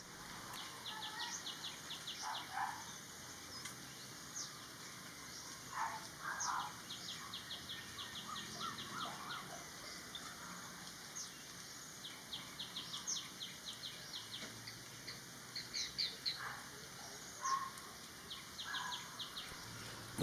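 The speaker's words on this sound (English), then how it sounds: "The common Iora is a small passerine bird found pretty much across all of Thailand." Small chirping calls of a common iora, a small passerine bird in Thailand, repeat in short bursts against a faint outdoor background of insects and other distant birds.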